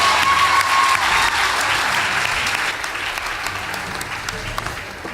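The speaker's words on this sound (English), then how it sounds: "Please give them a round of applause." Audience at a school debate between Loreto Limuru and Makueni Boys gives a round of applause, a steady wash of clapping that slowly thins out, with a voice briefly heard over it.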